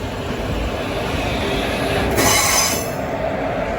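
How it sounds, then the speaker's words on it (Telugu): A locomotive rolls along a station platform with loud, continuous high-pitched wheel squeal over a dense rumble of rail noise; the screech swells briefly partway through and holds steady throughout. "ట్రైన్ కాదు, లోకోమోటివ్."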